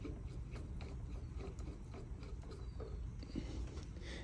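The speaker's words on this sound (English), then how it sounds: "So I'm gonna go ahead and close these valves." Valves on A/C manifold gauges are closed after a vacuum pump has run on a car air conditioning system, giving faint ratcheting clicks and small mechanical rubbing sounds over a steady low hum.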